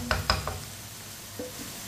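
Masala spices frying in a pan while being stirred for a minute, soft sizzling underneath a few quick spoon scrapes and taps near the start, then a quieter sizzle.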